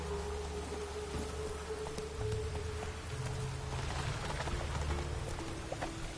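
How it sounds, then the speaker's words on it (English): Steady rain in The Witcher 3 video game patters and hisses across the whole stretch, with scattered droplet ticks and a low rumbling bed underneath. "Witches have conjured rain."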